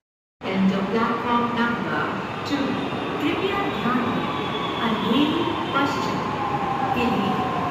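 Continuous rumbling roar of a Mumbai Metro train in motion, with occasional higher screeches from the wheels and people talking throughout.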